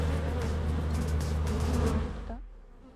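Honeybees buzz steadily and densely around an open hive during an inspection, a close, loud drone that fades out abruptly near the end.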